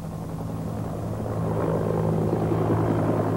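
A government helicopter flies over Medellín, its engine and rotor making a steady, droning low hum that grows slightly louder toward the end.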